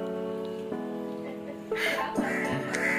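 Rain beginning to fall outside, a soft steady patter that thickens partway through, heard alongside a continuous tonal hum and some background activity.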